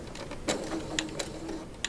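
A sewing machine stitches a gown in a soft, even mechanical patter with faint clicks, close by and alone without talk.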